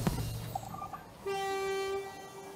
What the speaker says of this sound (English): And the train goes.